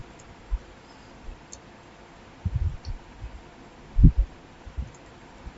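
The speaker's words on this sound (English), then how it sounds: "I'm typing" Scattered keystrokes on a computer keyboard, heard up close as someone types names into a mail merge recipient list. There are a few isolated soft clicks, then two short bursts of quick taps, with quiet room hiss between them.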